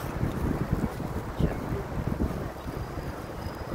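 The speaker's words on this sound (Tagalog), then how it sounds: "Mahangin ngayon." Wind gusts outdoors buffet the microphone with low, uneven rumbling bursts, fairly close and moderately loud, with faint background voices now and then.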